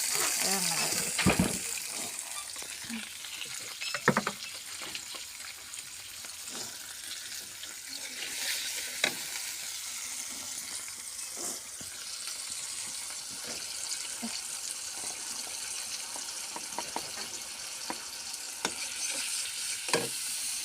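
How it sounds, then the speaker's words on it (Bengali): Fish curry of eel, puti and bujuri fish cooking in a pan, a continuous bright sizzle with recurring clinks and scrapes of stirring over about twenty seconds, close, with some voice now and then under it. "আর আমার রান্না এখানে বাইন মাছ দিয়ে, পুঁটি মাছ, বুজুরি মাছ দিয়ে রান্না করতেছি।"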